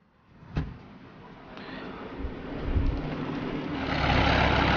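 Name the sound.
truck engine in Emergency 4 video game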